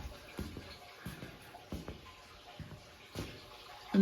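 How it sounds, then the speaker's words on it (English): Rainwater gushing and splashing into a leaking basement window well beside a house foundation during a downpour, a steady wet rush broken by irregular louder splashes. "And you can hear the water just gushing into something around the foundation."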